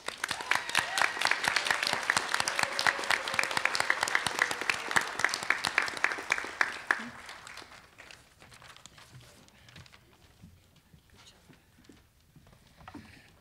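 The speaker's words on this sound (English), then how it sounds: "One more round of applause for our ESL completers" Applause at an adult education graduation ceremony for ESL completers, dense rhythmic clapping from a seated audience that holds steady for about seven seconds, then drops to scattered faint claps and quiet room noise.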